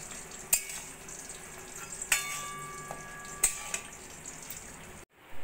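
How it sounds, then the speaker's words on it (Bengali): Paneer kachuri deep frying in hot oil, a steady bubbling sizzle broken by a few sharp clinks and scrapes of a utensil turning them, close and moderately loud, ending abruptly. "উল্টে পাল্টে সোনালি করে এই কচুরিগুলো আমার ভাজা হয়ে গেছে,"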